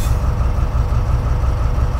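Steady low idling rumble of a locomotive engine in neutral in Train Simulator 2017, a continuous deep drone with faint rail-car texture and no speech.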